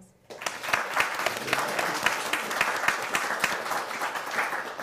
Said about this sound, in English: And I think that that deserves a round of applause.